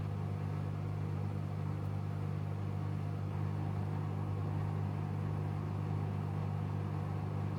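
A Bosch Serie 8 WAYH8790GB washing machine spins on a cotton 60° SpeedPerfect cycle, giving a steady, even hum and whooshing drum rumble that holds constant throughout.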